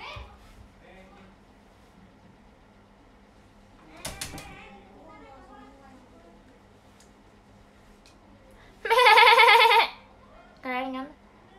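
A human voice imitates a goat, giving a loud, wavering bleat near the end and a shorter one just after it. Light chatter and laughter come before, in a quiet indoor setting.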